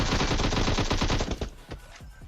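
Rapid video game gunfire spraying in a sustained automatic burst, loud and dense, trailing off into a few scattered shots with no voice over it.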